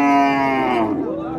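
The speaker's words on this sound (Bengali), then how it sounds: "গরুটা দেখেন ভালো একটা গরু" A local household dairy cow at a village cattle market in Naogaon, Bangladesh, gives one loud, close, drawn-out moo that fills the whole moment and slowly falls in pitch.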